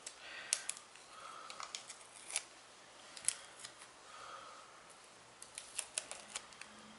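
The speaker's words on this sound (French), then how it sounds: "Maintenant, je vais retirer le scotch." Adhesive tape is peeled slowly off freshly painted gradient nails, giving quiet, close crackling rips and small sticky snaps scattered unevenly over a few seconds, with no voices.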